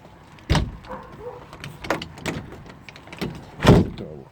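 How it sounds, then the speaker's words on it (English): A house garage door closing, with a series of mechanical thumps and rattles spaced over a few seconds, ending in a heavier clunk. "The door will close for me."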